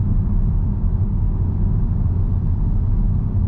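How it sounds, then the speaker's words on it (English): Steady low road noise fills the cabin of a 2022 VW Tiguan R cruising at 60 km/h, a constant loud rumble with tire roar and no talking. "I'm just cruising along in traffic now, guys, doing about 60 k's, and if you have a listen to the road noise"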